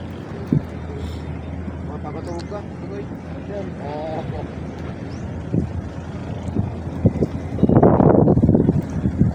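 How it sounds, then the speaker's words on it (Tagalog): Wind buffets the microphone at a free fishing spot in Bilibiran Park, Binangonan, Rizal, a steady low rumble running throughout with a louder gust near the end, under bits of talk. "Kasi yung hangin."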